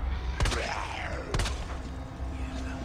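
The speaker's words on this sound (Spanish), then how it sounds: "¿Qué son esos balazos más débiles?" Two sharp gunshot bursts crack out in a Resident Evil 2 Remake soundscape, separated by about a second, with a sweeping tone and low background rumble.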